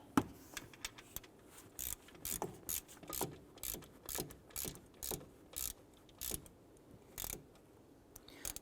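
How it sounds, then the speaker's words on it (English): Hand ratchet tightens the alternator bolts on a 2011-2018 Ram 1500 pickup, about a dozen quick clicking pulls in a steady rhythm, close but quiet, with a brief pause partway through and no talking. "Let's go ahead and tighten down the two alternator bolts."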